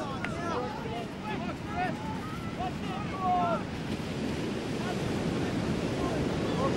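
Waves roll and break in a constant roar of shore-break surf, wind buffeting the microphone, with faint seabird cries calling over the wash.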